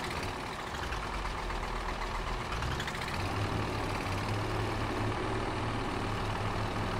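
Micro tractor engine in Farming Simulator 22 idling and rumbling steadily, a low continuous drone on a muddy onion field that rises slightly partway through, alone and fairly quiet.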